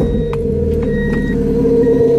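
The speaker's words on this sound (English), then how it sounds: "Let me turn it on again, so you guys could hear how the Supercharger sounds." A supercharged Mazda Miata engine idles steadily nearby, a loud low rumble with a faint high whine and a few light clicks.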